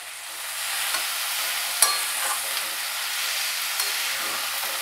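Bhetki fish pieces with salt and turmeric sautéing in a hot wok, a steady close sizzle and hiss with a few soft clinks of stirring, no talk.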